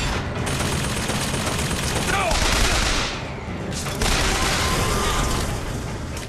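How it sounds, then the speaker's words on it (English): Gunfire in the video game Bioshock Infinite, rapid bursts of shots and booms layered over a dense, loud game soundscape that barely lets up. "Who is shooting at me? Who is shooting?"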